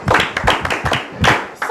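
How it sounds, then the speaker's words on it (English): An audience claps at a talk event honoring a musician, a short burst of dense, close applause with no speech over it. "Clap for yourselves."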